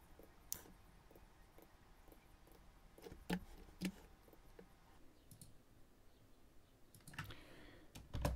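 Sparse computer keyboard key presses while modelling in Blender, a few isolated clicks followed by a quick pair of taps and a denser flurry near the end, close and fairly quiet with no talk.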